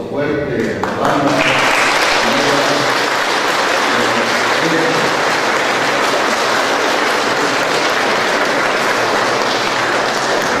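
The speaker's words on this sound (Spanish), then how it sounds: "Es un aplauso fuerte," A crowd at a church gathering with a band breaks into loud, sustained applause after a brief spoken moment, dense clapping filling the space steadily for around ten seconds.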